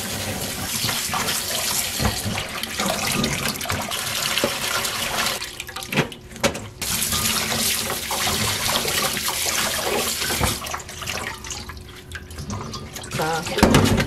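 Salad vegetables such as baby greens soaking and rinsing in water, a continuous loud splashing and running-water wash with small drips and sloshes throughout.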